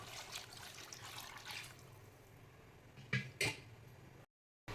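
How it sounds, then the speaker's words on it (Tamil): Coconut milk poured into a simmering Jaffna-style fish curry, a soft steady liquid pour and gentle bubbling, faint and close, with a couple of brief clinks near the end. "இப்போ தேங்காய் பாலை விடுவோம்."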